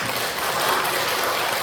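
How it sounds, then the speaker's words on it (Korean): Audience at a Korean church gathering clapping together, a dense, steady patter of many hands filling the room, moderately loud and continuous without speech. "여러분 박수 쳐주세요"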